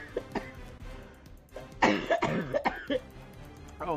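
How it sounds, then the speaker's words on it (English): A single person coughs, then the cough breaks into a sneeze, close and loud, with quiet table talk at a tabletop game session before and after. "Oh, cough into a sneeze."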